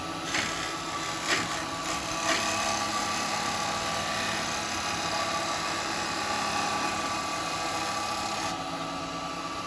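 Yew wood spinning on a lathe while a hollowing tool cuts out the inside of a small pot, giving a steady close scraping and rasping whir with a few sharper catches, continuous throughout.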